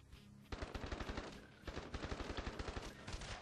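Sustained rapid automatic gunfire in the handheld shooter Call of Duty: Black Ops Declassified, a steady rhythmic stream of sharp shots close and loud after a brief quiet start, no speech.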